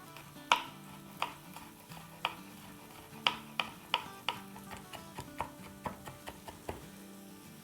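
A knife finely chopping green chillies on a cutting board, giving a series of sharp, fairly quiet taps at an irregular but steady pace, with nothing else in the background.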